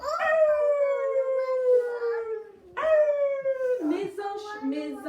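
A wolf howls in a children's story setting, two long sliding tonal howls that start high and fall steadily, loud and close, followed by a rougher wavering cry with a voice-like quality.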